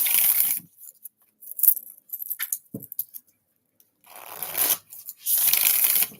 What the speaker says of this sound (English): why does it feel so good shuffling these cards?